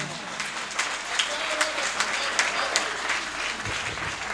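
An audience at a Hindi comic poetry gathering bursts into applause, a dense, steady wash of many hands clapping close by for several seconds.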